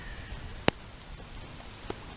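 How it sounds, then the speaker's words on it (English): Rain falling outdoors at night in Blackpool during Storm Elin, a steady soft patter over a low background, with a sharp close knock and a fainter second tap later. "Filming in the rain is a bit rubbish."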